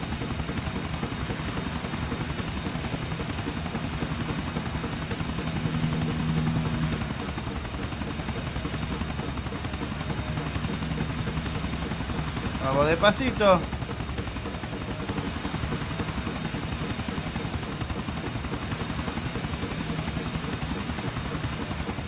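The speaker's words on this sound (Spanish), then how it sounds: "Vamos a estacionar el helicóptero." A helicopter in the video game GTA IV drones with a steady, continuous rotor and engine hum throughout while someone talks over it, with one brief sharp sound partway through.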